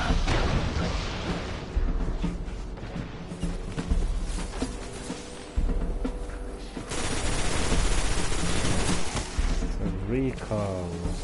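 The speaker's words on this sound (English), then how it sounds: "I've got that other fusion rifle hitting me and I can't see where he's hiding" Fusion rifle fire and explosions from a Destiny player-versus-player match, with heavy repeated blasts and booming impacts in a dense, busy mix, with a player talking over the action at times.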